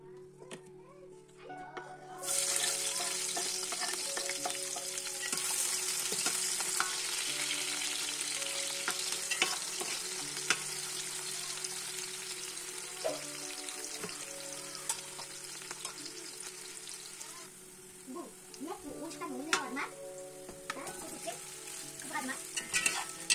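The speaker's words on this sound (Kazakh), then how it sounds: "Қазанымызды қыздырып, бір шөміш сұйық майымызды қойып, пиязымызды 4-5 минут қызарғанша қуырып аламыз." Chopped onions fry in a ladle of oil in a hot pot, a loud steady sizzle and crackle that runs for about twenty seconds after a quiet start, with occasional stirring clinks.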